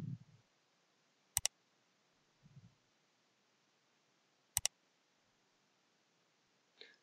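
Computer mouse clicks while working in AutoCAD 2019 on a floor plan, two sharp double clicks a few seconds apart, close and crisp in an otherwise quiet room with faint soft knocks between.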